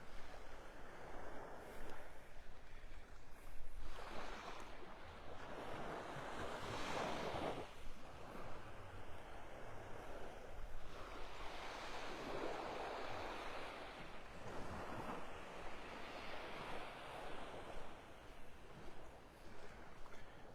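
Ocean waves at the pass in North Naples, Florida, a beach on the Gulf, roll and wash in broad, slow swells under steady wind rumble against the microphone, with no voices.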